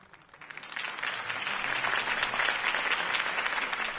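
Crowd applause at a Harvey Dent campaign rally in the Batman Telltale Series video game: dense, steady clapping that swells in after half a second and holds full and loud throughout.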